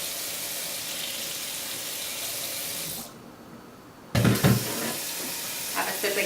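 Cold tap water runs into a cooking pot in a home kitchen, a steady rushing stream that briefly cuts off before resuming with splashy, uneven pouring and clatter near the end.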